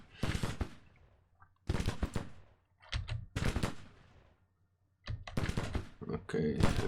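Rifle volleys from Mississippi rifle units in the Civil War strategy game Grand Tactician, heard as several separated bursts of crackling gunfire, fairly close and sharp, with short quiet gaps between them.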